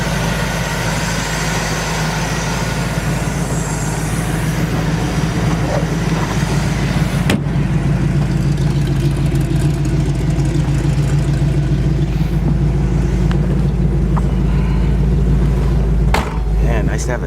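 A 1962 Chevrolet Corvette roadster with a four-speed automatic drives with the top down, a steady loud engine rumble and road noise sustained throughout, heard from inside the open car.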